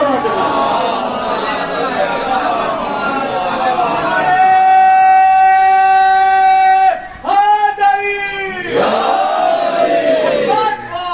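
A crowd at a Muharram majlis in Quazipur Chandha answers together in loud unison, sustained chanted voices swelling and holding steady, with a brief break before the collective voices rise again.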